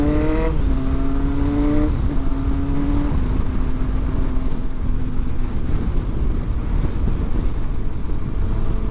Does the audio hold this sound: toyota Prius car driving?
yes